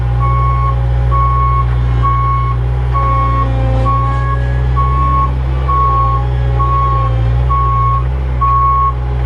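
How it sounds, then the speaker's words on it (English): Loud, regular reversing alarm beeps repeat about twice a second over a heavy, steady diesel engine rumble from a Cat 216B3 skid steer, close by. "That beep is a bit loud and a bit annoying for me"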